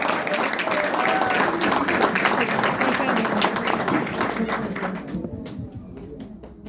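An audience at a university humanities faculty event breaks into dense, sustained applause, loud and close, with many overlapping claps that thin out and fade toward the end while a voice speaks over them.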